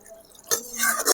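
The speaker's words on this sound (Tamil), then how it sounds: "அதை அலசின தண்ணியை அப்படியே இதில் ஊற்றிக்கலாம்." Water used to rinse ground ginger and garlic is tipped into a pot of chicken and vegetable curry, making one short, close splash of about half a second after a quiet lead-in.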